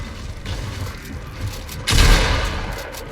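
Gunfire and explosive shots from a video game fight pop repeatedly in the background, with one heavier, louder blast booming near the two-second mark.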